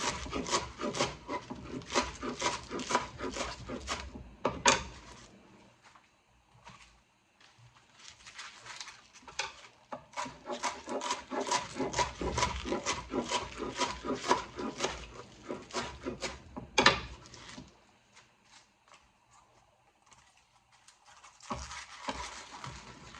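Ingredients being chopped on a wooden cutting board for Thanksgiving side dishes, heard as bursts of rapid, close knife strokes separated by short pauses, with scraping and rubbing sounds and no talking.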